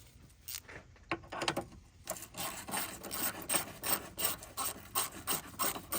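A 10mm six-point deep socket on a 1/4-inch ratchet loosens the battery terminal bolt on an Acura MDX, giving a series of close, rapid ratcheting clicks in short bursts after a brief scrape.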